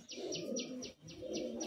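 Madras pigeons make soft repeated calls, with chirps recurring in a steady rhythm close by and fairly quiet, with a low murmuring coo underneath.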